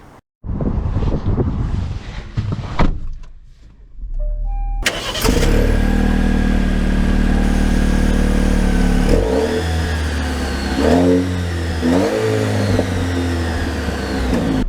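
A Dodge Hornet's engine starts with a brief crank and then pulls away, its revs rising and falling through several gear shifts as the car accelerates, loud and close with steady road noise underneath.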